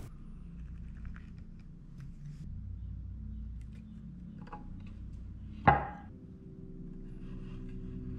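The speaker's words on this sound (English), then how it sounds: "I lay out the twin mortises and the space in between the twin mortises with the chisel" A chisel marking out twin mortises in wood makes quiet scraping and tapping, then one sharp, close strike near the end that rings briefly before fading.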